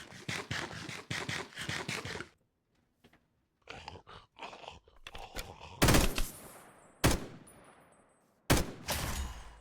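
Video game gunfire in Minecraft, a series of sharp broadband shots and bursts with gaps of near silence between them, fairly loud and without talk.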